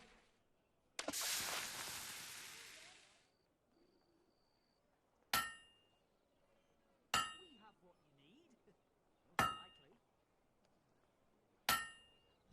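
Blade hammering at a forge in the video game Fable 2: a long ringing clang, then four sharp, spaced metallic strikes that ring out between blows, close and clear.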